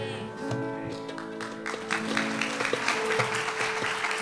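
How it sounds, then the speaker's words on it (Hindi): Congregation clapping during a Sunday sermon in a church, rising in strength after a sustained musical tone, with scattered sharper claps over the held notes. "जोरदार तालियां खुदा के कलाम के लिए।"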